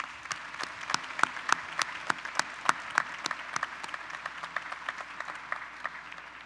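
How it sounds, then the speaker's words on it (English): Audience applause at a community college spring commencement ceremony, a rhythmic burst of clapping from a moderately sized crowd that rises quickly and then tapers gradually in a large hall. "Please join me in giving them a round of applause on this very special night."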